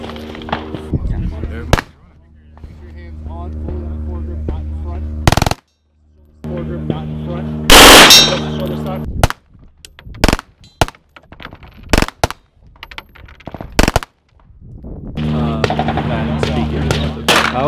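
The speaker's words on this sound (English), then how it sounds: "The only way to shoot the vector is full auto." A KRISS Vector fires full auto at an industry range day, loud rapid bursts alternating with single sharp cracks and silent pauses. A steady background din runs at the start and end.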